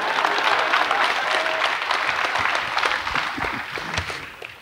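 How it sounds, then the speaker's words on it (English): A crowd at a live comedy talk show gives polite applause after a pun, many hands clapping loudly at first, then thinning and fading over about five seconds. "That was the best pity applause."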